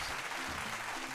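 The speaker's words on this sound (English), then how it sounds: "Round of applause." Applause fills the whole moment: a dense, steady wash of clapping hands, fairly loud and unbroken, with no distinct individual claps standing out.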